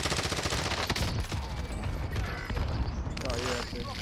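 Gunfire in a Call of Duty Warzone zombie royale match, rapid crackling shots and mechanical clatter running continuously under a player's voice, with a few stronger shots in the mix.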